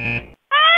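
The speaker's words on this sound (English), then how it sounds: "There's an alarm going off in the electrical room." An alarm goes off in an electrical room with loud, steady electronic tones: one buzzing burst, a short silence, then a higher, shriller tone, close and clear with no talk over it.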